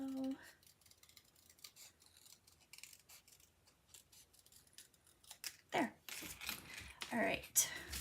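Scissors snip through paper to cut out a rounded design, with quiet, sparse cuts that grow into sharper, louder snips and rustles near the end, and a faint voice now and then.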